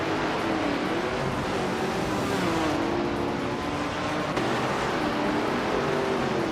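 A 1965 Lotus 40 race car engine drones steadily at high revs in a racing video game, loud and continuous with slight pitch shifts, no voices over it.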